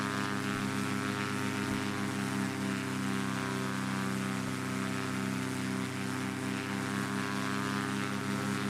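Steady drone of a Cessna 185F amphibian propeller plane in the FS9 flight simulator, engine held at a constant loud pitch through the takeoff run, with no voices over it.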